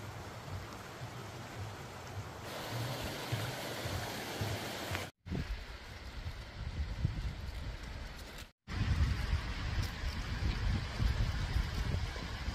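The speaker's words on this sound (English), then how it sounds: "Do you hear that beautiful babbling creek? That is Sulphur Creek" Sulphur Creek babbles along a hiking trail in Lassen Volcanic National Park as a steady, close rush of flowing water, broken by two brief cuts to silence.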